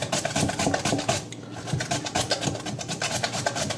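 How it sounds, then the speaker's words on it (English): A cucumber grated on a dull box grater, rapid repeated rasping strokes, close and fairly loud, in a home kitchen. "This box grater is not very sharp."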